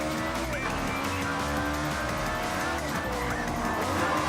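Car skidding in a racing video game after heavy overbraking, tires squealing over a continuous engine drone, loud and close throughout.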